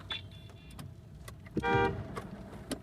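A car passes nearby with a rising rush of engine and road noise, a brief louder swell midway, and scattered clicks and thumps around it.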